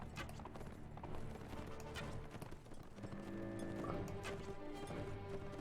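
Horse hooves clip-clop and gallop in Mount & Blade: Warband, a steady busy rhythm of hoofbeats in the thick of battle noise, close and fairly loud throughout.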